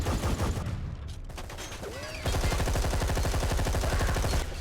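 Rapid gunfire rattles in the Deep Black video game, dense bursts of automatic shots at moderate volume, thickening into a sustained barrage in the second half.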